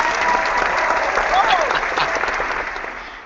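Canned applause sound effect played during a podcast episode, a steady wash of clapping lasting a few seconds that tapers off at the end, with a faint voice partly audible over it.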